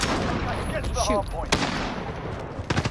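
Gunfire from an MG-34 machine gun in Call of Duty Modern Warfare, sharp bursts of shots near the middle and end amid game noise, with a player talking over it.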